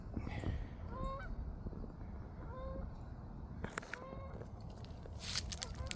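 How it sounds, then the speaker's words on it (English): Geese honk while flying overhead during an outdoor walk, several clear calls spaced across a few seconds over steady wind noise, moderately distant. "geese flying along through there."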